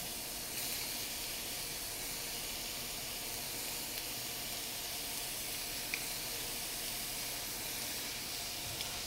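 Scallops sear in a hot pan with a constant, even hiss of sizzling oil, steady and unbroken from start to finish with no voices.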